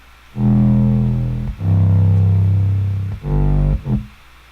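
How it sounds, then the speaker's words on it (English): A loud, sustained 808 bass rings out in long booming notes with gliding pitch, a few distinct hits played alone. "and then I just had an 808 under that"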